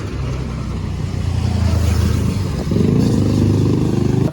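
Motorbikes race past on a busy street in Angeles City, their engines droning and rising in pitch as one passes close by, a steady loud roar of traffic with no voices.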